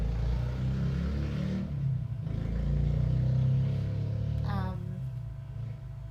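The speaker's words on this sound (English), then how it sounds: "Someone's revving up their engine all day." Truck engine revving nearby, a low rumbling motor that swells and holds before easing off, moderately quiet with a brief higher whine near the end.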